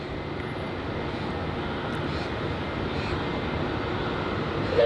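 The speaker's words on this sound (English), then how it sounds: "on arrival here is QF flight 1517 arriving in from Canberra" A Qantas Boeing 717-200 arriving at Melbourne Airport gives a steady, moderately loud broadband jet roar that holds evenly for about five seconds, with no speech over it.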